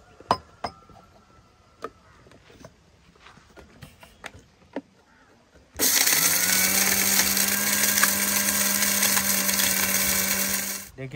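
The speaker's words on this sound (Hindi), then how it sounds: "इसमें शाजीरा, ज़ीरा, काली मिर्ची जो मसाले मैं आपको बताया था पूरे पीस लेंगे" Light clinks and taps come first. Then an electric grinder starts suddenly and roars loudly and steadily for about five seconds as it grinds whole shahjeera, cumin and black pepper.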